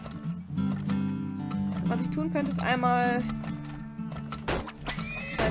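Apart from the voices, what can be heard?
horses neighing and hooves from horse wagons in the video game Turmoil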